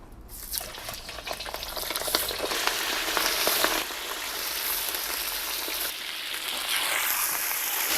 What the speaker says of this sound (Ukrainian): Ми ще трішки додаємо олії, небагато. І починаємо смажити нашу курку.